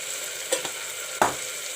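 Onion paste with turmeric powder frying in a pan, a soft steady sizzle broken by two short bursts of spatter, the second sharper and louder.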